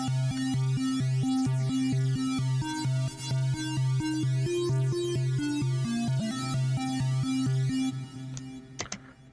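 A synthesized bass line and higher melody made in FL Studio play together in a steady repeating loop for several bars, clean and even in level, fading with a few clicks at the end.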